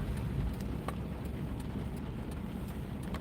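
Steady rain drumming on a car while driving through the Bronx, a dense continuous patter with scattered sharper drops, close and even throughout.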